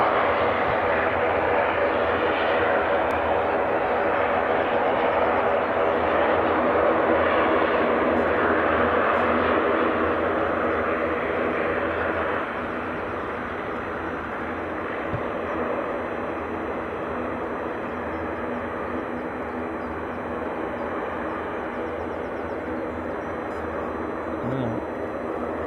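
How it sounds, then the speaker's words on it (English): An EasyJet Airbus A320 jet bound for Dubrovnik departs Edinburgh airport, its engines producing a loud, steady broadband roar that swells slightly and then holds for the whole stretch, with no talk over it. "The EasyJet A320"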